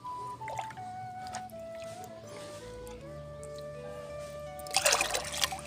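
Plain water pours into a mug for mixing eggplant plant fertilizer, a close trickling fill with a rising pitch as the vessel fills, ending in louder splashing.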